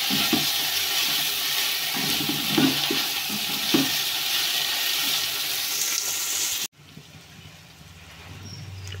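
Ginger paste sizzles and fries in a pan while a spoon stirs it during egg biryani cooking, giving a continuous loud crackle with scraping stirs before an abrupt drop to a quieter simmer.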